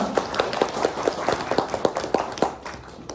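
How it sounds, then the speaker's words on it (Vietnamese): Audience applause at a Buddhist temple during an Eight Precepts retreat dharma talk, a loose patter of many hands clapping unevenly for a few seconds before tapering off. "Được, cho tràng vỗ tay."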